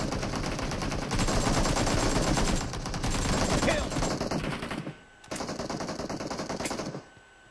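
Rapid automatic gunfire from a PUBG Mobile battle crackles in dense, sustained bursts, loud and close, broken by one brief pause before the firing resumes and then cuts off.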